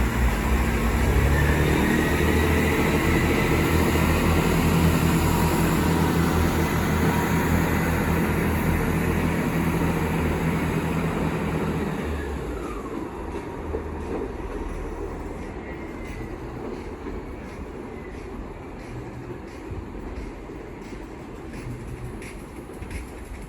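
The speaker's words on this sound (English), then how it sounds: "Now departing is the 1356 Great Western Railway service from Slough to Windsor and Easton Central." A Great Western Railway train pulls out of Slough station: loud rolling wheel and motor noise for about twelve seconds, then fading into distant rumble as it moves away.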